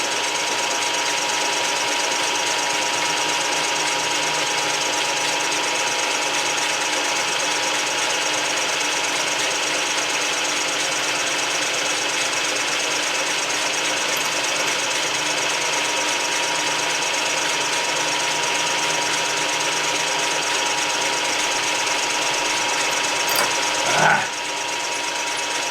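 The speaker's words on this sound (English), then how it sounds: "this is a carbide end mill, and got the speed turned way up on it." A milling machine running a carbide end mill at high spindle speed while machining a bulldozer oil filter housing gives a steady, continuous close-up whir that holds unchanged throughout, ending with a brief knock.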